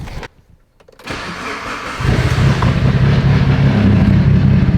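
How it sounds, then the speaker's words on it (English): After a brief near-silence, a Mitsubishi Evo 8 engine cranks and catches after repair, then settles into a loud, steady idle rumble close by. "I went and fired up the car again"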